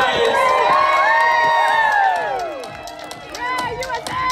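A home crowd at a SailGP foiling catamaran race in San Francisco cheers and shouts loudly, with many voices swelling at first, dipping briefly, then rising again.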